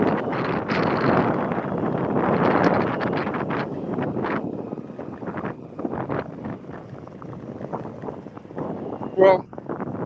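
Wind buffeting a microphone while riding fast near Ocean Beach and Golden Gate Park in San Francisco, a loud gusty roar that rises and falls and eases later, with a person talking over it.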